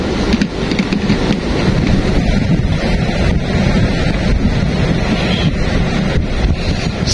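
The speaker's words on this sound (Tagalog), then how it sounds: "mahangin na." Wind blowing at sea during a fishing trip, buffeting the microphone in a constant loud rush with water and wave noise beneath, and no voices heard.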